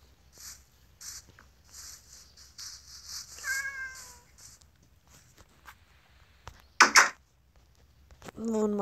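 A Minecraft cat meows, one clear sharp meow standing out mid-clip with a shorter one near the end, over faint scratchy shuffling and clicks.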